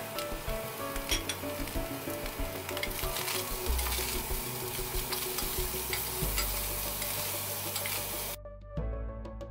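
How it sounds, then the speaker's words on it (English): Chopped vegetables sizzling steadily in a hot pan as they are stirred, a loud, close frying hiss with scraping of the utensil, cutting off abruptly near the end. "Add the chopped vegetables and stir."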